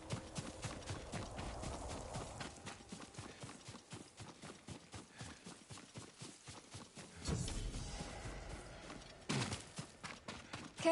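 Horse hooves clip-clop steadily at a walking pace in the video game Ghost of Tsushima, a regular rhythm of moderately close steps that shifts in loudness as the horse moves, with a brief swell of other ambience partway through.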